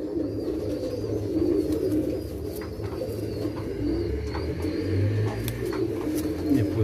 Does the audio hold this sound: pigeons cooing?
yes